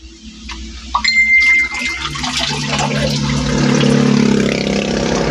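Loud, steady rush of a large volume of flowing water fills the scene close by, a broad continuous wash that swells slightly and never lets up.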